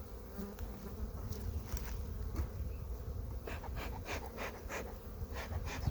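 Honey bees buzzing around an open hive during an inspection late in the day, a close, continuous droning hum with individual bees zipping past the microphone, no talking.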